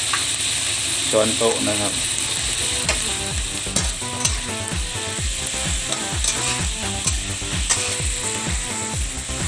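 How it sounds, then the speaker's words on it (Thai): Butter and garlic stir-fry in a pan for a breakfast spaghetti, giving a loud, steady sizzle with rhythmic clicking scrapes of a utensil throughout, and someone speaks briefly over it. "แล้วก็ผัดให้เข้ากันนะครับแล้วก็จะมีกลิ่นหอมกระเทียมกับเนยนะครับ"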